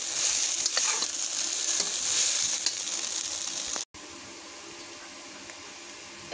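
Chira (flattened rice) biryani with cardamom pieces and cinnamon is stirred in a hot pan, giving a steady close sizzle with scraping strokes, cut by a brief silent break before quieter frying resumes.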